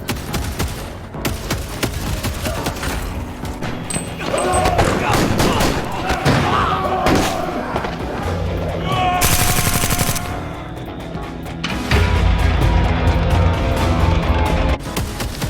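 Helldivers 2 combat with loud, rapid shotgun and pistol fire in bursts among explosions and battle noise. Someone talks steadily over the shooting.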